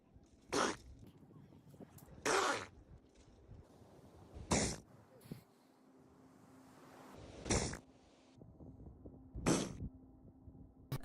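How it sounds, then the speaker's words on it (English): A seal sneezing in sharp, wet bursts, about five spaced a second or two apart, close and fairly quiet over a soft background hum. "This is what a seal sneeze sounds like."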